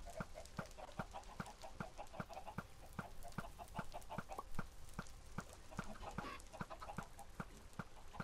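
Chickens in the Minecraft video game cluck over a steady rapid clicking rhythm, quiet and continuous across the stretch with no talking.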